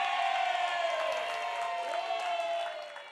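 A crowd at a theater show cheers and applauds loudly for a DJ, a dense wash of claps and shouts that holds steady, then fades toward the end.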